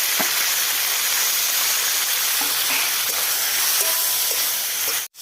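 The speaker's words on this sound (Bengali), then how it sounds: "চিংড়ি মাছ ভাজা হয়ে গেছে।" Shrimp frying in hot oil with a dry red chilli and whole cumin seeds, a steady dense sizzle and hiss running close and loud throughout, with a few faint clinks, then cutting off abruptly at the end.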